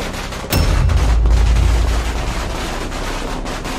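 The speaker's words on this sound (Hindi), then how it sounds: "जले पटाखे" Firecrackers burst at a Diwali celebration, one sharp loud crack followed by a booming, rumbling rush of noise that slowly fades into a steady crackling background.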